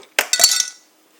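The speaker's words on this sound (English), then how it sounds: "First thing you gotta do is you put the ice cubes into" Ice cubes are dropped into a mug, giving a quick close clatter of clinks and knocks lasting under a second, then silence.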